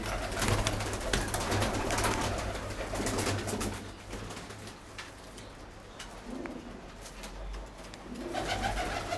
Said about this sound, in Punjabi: ਇਹ ਬਾਈ ਜਾਨ ਸਾਡਾ ਬਰੀਡਿੰਗ ਸੈਟਅਪ ਹੈ ਜਿੱਥੇ ਅਸੀਂ ਜੋੜਿਆਂ ਵਾਲੇ ਕਬੂਤਰ ਰੱਖੇ